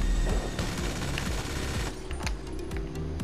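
Rapid automatic gunfire in the GTA V Online video game during an Everything vs Everything match, a dense rattling stream of shots with short pauses, steady and close throughout.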